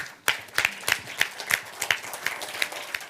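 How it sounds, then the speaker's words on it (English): Sparse, rhythmic clapping at a digital talent summit, only a few hands beating in a slow, regular pattern of about ten distinct claps, close and without talk. "Please clap for yourselves."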